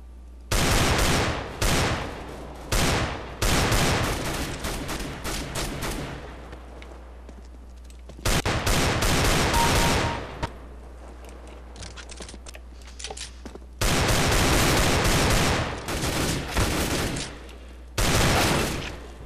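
Desert Eagle pistol fire in a video game, loud rapid bursts of repeated shots in several clusters separated by quieter gaps, harsh and close.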